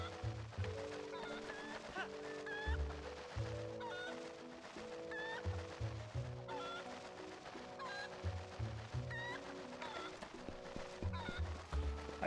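A chicken clucking in the video game The Legend of Zelda: Twilight Princess, repeated short clucks over ongoing rhythmic game music, steady and moderately loud.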